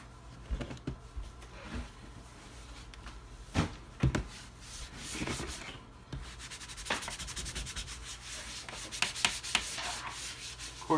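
An HP 15-f272wm laptop is rubbed and wiped clean by hand, giving soft irregular scrubbing and rubbing strokes with occasional sharper taps and knocks, fairly close and quiet.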